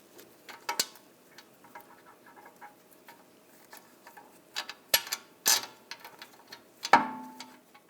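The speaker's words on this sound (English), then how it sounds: "let me tighten those up" Ratchet clicks while wheel hub bolts are tightened on a 2009-2017 Volkswagen Tiguan rear hub assembly: close, quiet ticking in bursts, with a few louder metallic knocks and scrapes near the end.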